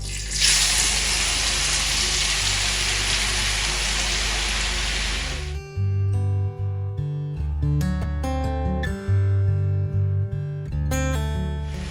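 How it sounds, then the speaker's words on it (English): Carrots fry in heated olive and coconut oil, giving a loud, steady broadband sizzle for about five seconds before it abruptly gives way to music. "We'll keep frying it here until all the carrot has infused its color inside the oil."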